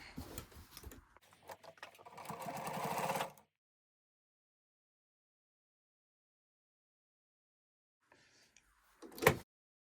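A sewing machine stitches a quilt block cushion cover with a fast, close, pattering whir that stops after about three seconds, followed by silence and then a short mechanical clunk.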